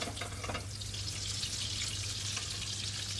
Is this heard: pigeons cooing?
no